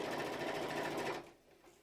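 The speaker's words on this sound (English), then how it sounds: "My sewing machine is over here." A sewing machine stitches in a fast, steady mechanical whir, close and moderately loud, then stops abruptly after about a second and leaves near-silence.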